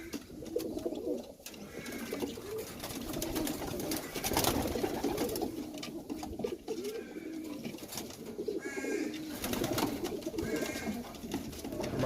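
Young pigeons coo steadily and close by, soft repeated throaty calls running through the whole stretch over a busy background of rustling and movement.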